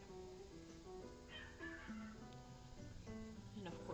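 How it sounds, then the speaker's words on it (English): A pet dog whimpers and yips softly indoors, brief high whines rising and falling over a few seconds, faint and close with low background noise. "my dog is barking"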